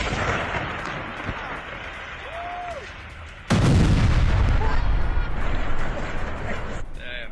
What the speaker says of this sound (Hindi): ये आईडीएफ की बमबारी की वो तस्वीर है जहां देखिए इस वॉर फ्रंट पर किस तरीके से जबालिया में हमलों को अंजाम दिया जा रहा है